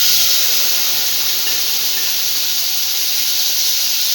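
Potato coconut mixture sizzling as it hits a hot pan with curry leaves for a stir fry: a steady, loud, close hiss of frying that holds evenly throughout, with no talk.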